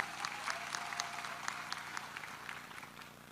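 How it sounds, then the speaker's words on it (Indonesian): Steady applause from an audience at an Indonesian young entrepreneurs' volunteer rally, welcoming Gibran: dense, continuous clapping with a few louder claps standing out, held at an even level throughout. "Kita berikan aplaus kepada Mas Gibran."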